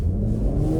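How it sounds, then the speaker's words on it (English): A 2025 Cadillac CT5-V in V mode accelerating onto an interstate, its engine a loud, deep continuous rumble that builds without pause. "Now I'm gonna give it a pull getting on the interstate."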